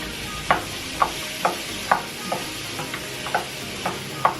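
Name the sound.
green beans sizzling in a pan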